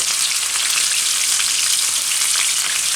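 Shrimp frying in hot oil give a loud, dense, steady sizzle with crackling spatter throughout, close up and without any talk.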